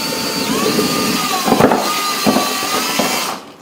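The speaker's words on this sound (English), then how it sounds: "I'm gonna have to drill out this hole." A steady, high-pitched whine of a drill running close by, drilling out a hole in a 1-2-3 block, with a few sharper bursts as the bit bites in, then it winds down and stops.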